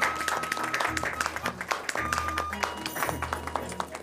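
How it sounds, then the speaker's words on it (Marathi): Clapping from a studio audience on a Marathi TV quiz show, a steady patter of hands that carries on for several seconds beneath music. "टाळ्या."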